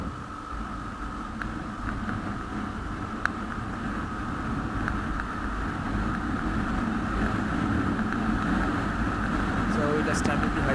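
TVS Ntorq 125 BS4 2019 scooter ridden at top speed on a highway, a steady engine drone under heavy wind rush that slowly grows louder, with a rider talking over it.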